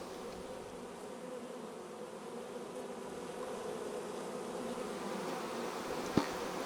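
Honey bees hum steadily around an open beehive during honey harvesting, a dense continuous buzz with no talk over it, plus one brief sharp tap near the end.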